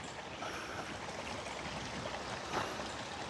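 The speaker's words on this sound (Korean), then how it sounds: "물소리 들리고요." A stream flowing beside a Bukhansan hiking trail in autumn, a faint steady wash of running water with soft trickles throughout, no talking.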